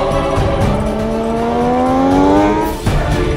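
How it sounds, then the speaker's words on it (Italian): 600cc racing motorcycles launch off the grid at the start of a race, engines screaming loudly and rising in pitch together as they accelerate away close by, with no talking. "si spengono in questo istante i semafori e partono le moto."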